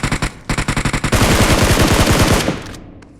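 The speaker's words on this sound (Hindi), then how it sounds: "बावनेश पत्थर पे बंदा मारो" Automatic gunfire from a BGMI match: a rapid string of sharp shots, first in short evenly spaced bursts, then a dense continuous volley, loud and close, ending abruptly.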